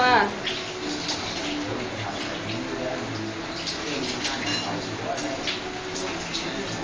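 A shower head sprays a steady, dense hiss of water over someone bathing, running continuously as voices talk over it.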